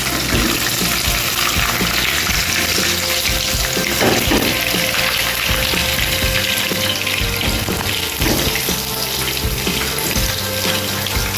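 Soya chunks fry in hot oil for crispy restaurant-style soya chilli Manchurian, a loud, dense, continuous bubbling sizzle that stays steady throughout, close up.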